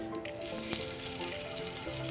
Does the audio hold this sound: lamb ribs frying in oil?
yes